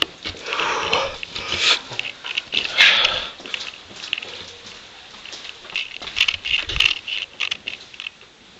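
Close, irregular sniffing and snuffling of a dog in a hotel room, with scattered small clicks and clinks in between and no talk.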